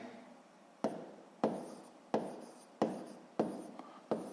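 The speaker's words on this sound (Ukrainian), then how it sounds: "Записуємо було в театрі." A pen writes out the answer to a Grade 6 maths exercise in six evenly spaced scratching strokes, close and quiet with no talk.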